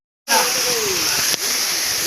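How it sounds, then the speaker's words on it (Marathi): A steady, loud rush of a waterfall at a hilltop temple in Satara, India, begins abruptly and continues as a broad hiss, with a faint voice briefly heard over it. "ते धबधबा आहे"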